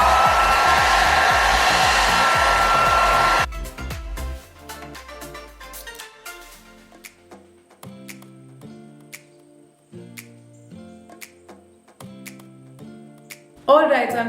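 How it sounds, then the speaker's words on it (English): A very cheap hair dryer roars steadily for a few seconds, then switches off, leaving quiet clicks, taps and a voice speaking. "this is a very cheap hair dryer"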